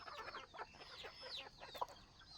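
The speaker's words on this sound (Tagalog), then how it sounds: "Oh, manok ang tinatawag ko ah." Faint chicken clucks and chirpy calls repeat in quick, uneven bursts at a farmyard home, a cluster of fowl sounding somewhat distant and quiet with no talk over them.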